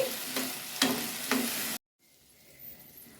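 Fenugreek seeds and turmeric sizzling in hot oil with a few sharp stirring scrapes, then a sudden cut to a much quieter, faint hiss.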